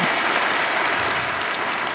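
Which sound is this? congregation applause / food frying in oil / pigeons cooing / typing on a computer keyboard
congregation applause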